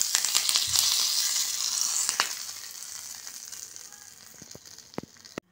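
Urad dal, mustard seeds and curry leaves sizzle loudly in hot tempering oil, a steady close crackle with sharp pops that slowly fades, with no talk over it.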